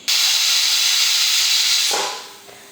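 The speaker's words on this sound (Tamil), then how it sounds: "குக்கர் மூடி போட்டு விசில் போட்டாச்சு." A pressure cooker whistles out a loud, steady jet of steam while egg biryani cooks, hissing continuously for about two seconds and then tapering off as the release dies down.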